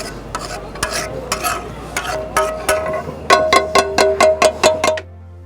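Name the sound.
chicken liver being stirred and chopped on a hot tawa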